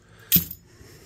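Office keys dropped onto a surface, giving a single short bright metallic clatter with a brief jingle, close and fairly loud in an otherwise quiet moment.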